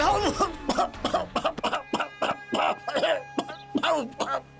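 A man with a bad cold coughs in a rapid series of harsh, voiced bursts, close and fairly loud, with short pauses between them.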